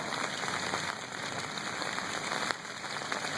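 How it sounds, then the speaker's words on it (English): Rain falls steadily on a Saturday morning as a constant close hiss of drops hitting surfaces, with occasional sharper patters and no voices. "Yep, that rain's coming down."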